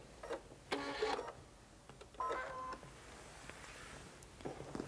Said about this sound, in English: do a couple of fixed stitches